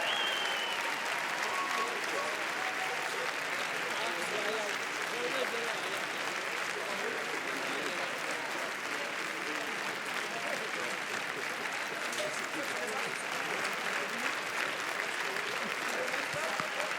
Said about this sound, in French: Une équipe très applaudie.